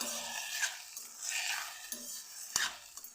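Roasted eggplant bharit being sautéed in a pan at home: steady scraping and stirring with a spatula over a soft sizzle, with occasional sharp clinks of metal against the pan.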